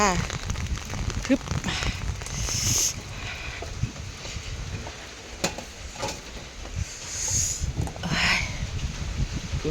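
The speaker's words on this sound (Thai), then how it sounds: "ฝนตกเปียกหมดเลยจ้า" Rain falls steadily on a roadside coffee stall, a dense hiss of drops striking the stall's surfaces throughout, with a few louder splashes and knocks, while nearby background voices murmur.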